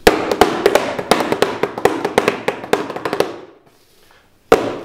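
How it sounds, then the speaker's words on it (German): Wooden sticks tap on a cardboard box in quick, uneven bursts of sharp, hollow knocks, then a brief silence before one final tap. "kann auf diesem Karton umeinander klopfen, wie man lustig ist"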